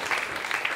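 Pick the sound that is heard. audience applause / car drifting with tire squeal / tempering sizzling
audience applause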